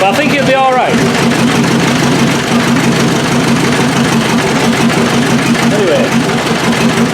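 A naturally aspirated 2.5-litre engine runs roughly on a pallet stand, a loud, steady, uneven idle with a lumpy beat throughout, while a person speaks briefly over it near the start.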